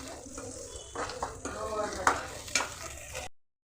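Masala paste of coriander, mint, tomato and garlic frying in a pan, a steady close sizzle with scraping stir strokes running through it, loud and continuous with no talking.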